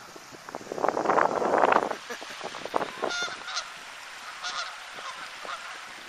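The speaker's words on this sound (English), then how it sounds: "Oh, here comes some more geese down the" Several geese honk loudly nearby at Beaver Creek State Park in bitter cold, a burst of overlapping calls that fades into scattered distant honks over wind noise.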